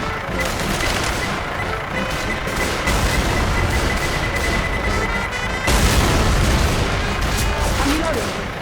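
Dense combat chaos in Left 4 Dead 2 with continuous loud gunfire and booming blasts, including a heavier explosion partway through, with voices shouting under the noise.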